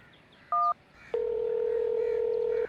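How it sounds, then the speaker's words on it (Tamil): Phone keypad tones sound clear and close as a number is dialed: one short beep, a pause, then a long steady tone, with no other sounds. "ஃபோனை பண்ணி கேட்டுருவோம்."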